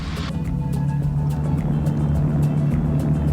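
Continental engine of a Cessna 140A taildragger in flight, a steady droning putt-putt hum, loud and close throughout.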